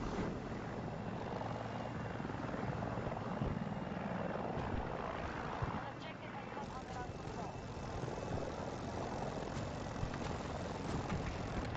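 A helicopter flying in the video game Battlefield 2042, a continuous rotor and engine drone with game effects, while someone talks over it.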